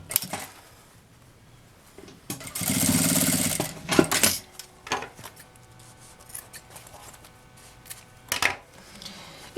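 Sewing machine stitching bias tape onto a milk carton box, with a loud steady whir of stitching for about two seconds among scattered handling clicks, rustles and taps from the fabric and box; no talking.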